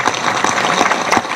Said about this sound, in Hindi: और जोर से ताली बजा के धन्यवाद करो।